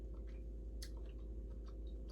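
Crunchy cornstarch-coated salt and pepper tofu is chewed up close, with soft repeated bites and crunches heard faintly over a low steady hum.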